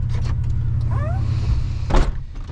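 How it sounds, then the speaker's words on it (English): A power window in a 2002 Chevy S-10 Xtreme Blazer runs briefly over the truck's low idle, a whirring motor with a short squeak, then a louder thump and rattle as the glass stops. "Power window switch works from this side too."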